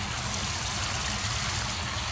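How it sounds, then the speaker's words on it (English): A small waterfall runs in a Japanese garden in Georgetown, Kentucky, on a January day, giving a steady, dense, even wash of trickling water with no breaks and no talk. "the trickling sound of the water"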